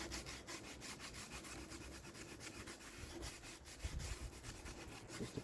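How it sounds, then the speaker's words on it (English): Hand sanding of a wooden native snowshoe frame, a faint, continuous scratchy rubbing with irregular strokes, close by and quiet, with no voices. "Basically just sanding this by hand."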